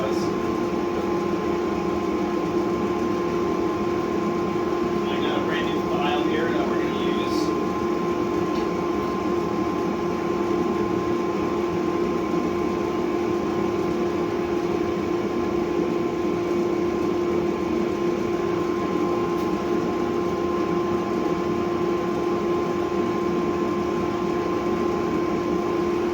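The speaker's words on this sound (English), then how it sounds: "let's go ahead and let's fire up this forge and let's get started" A forge runs after being fired up for heat treating steel, a constant loud roaring hum with a steady tonal drone that holds unchanged for the whole stretch, and a brief faint clatter partway through.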